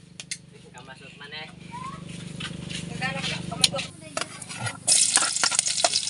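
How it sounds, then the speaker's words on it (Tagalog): Onion, garlic, chili and ginger sautéing in a pan for squid adobo, a steady sizzle with stirring scrapes throughout, rising louder near the end, with people talking over it. "Gisa muna tayo"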